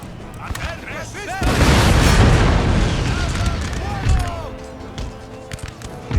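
Artillery fire in Empire: Total War, a loud rolling boom of cannon volleys that swells and lingers for several seconds, with a further thump later and a voice talking over the battle.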